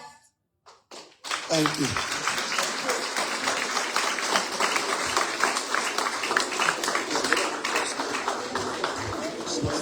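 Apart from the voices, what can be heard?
audience clapping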